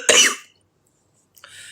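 A single sharp, close cough bursts out and dies away within half a second, then a faint breathy trailing sound follows after a pause.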